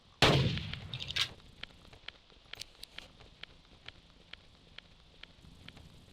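A single sharp, loud gunshot fired at a creature in the video game Carnivores cracks out and decays, then a string of faint, evenly spaced ticks follows in a quiet scene.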